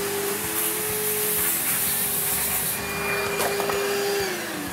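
A vacuum cleaner runs steadily and loudly close by, its motor whine holding a constant pitch with a brief dip near the end.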